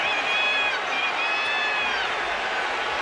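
Basketball arena crowd reacting to a scuffle on court, a loud, dense wash of roaring voices and cheering that stays steady throughout.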